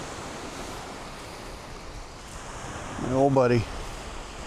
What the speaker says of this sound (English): listening to the ocean sounds